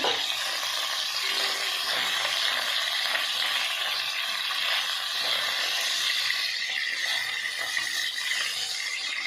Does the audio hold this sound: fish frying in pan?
yes